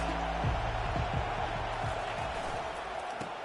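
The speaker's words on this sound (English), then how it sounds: "This crowd trying to make life miserable for this offense." Crowd noise in a football stadium during a Bulldogs game, a steady broad roar sustained throughout with some thumping impacts underneath, loud and continuous.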